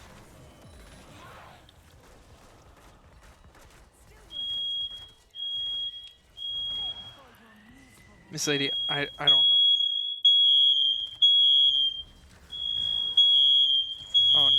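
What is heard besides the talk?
fire alarm going off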